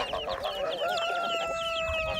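A hen with her newly hatched baby chicks, giving soft close clucks while the chicks peep in thin, high, rapid chirps, all within a short stretch.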